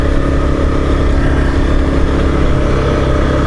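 A motorcycle engine runs steadily and loudly close by while riding on a dusty construction-site road, a continuous low rumble with no talking over it.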